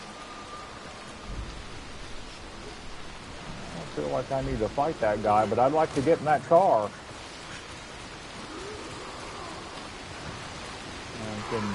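Steady rain hisses across a soaked outdoor scene in the video game Dying Light The Beast, a constant wash under someone talking in the middle.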